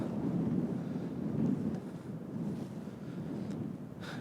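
Wind gusting into the microphone outdoors on a cold, clear day of about 4 °C, a steady low rumble with slight swells throughout, with no voices.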